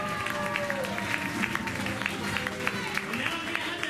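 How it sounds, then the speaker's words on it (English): Audience in an auditorium giving a patriotic round of applause, a sustained, fairly loud clatter of many hands with crowd voices mixed in. "Let's keep giving this patriotic round of applause"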